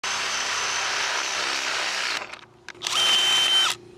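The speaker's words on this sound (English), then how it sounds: "this is the drill that in fact got wet" A DeWalt drill that had gotten wet runs in a loud, steady whine, stops briefly with a couple of short blips, then spins up again for about a second before cutting off.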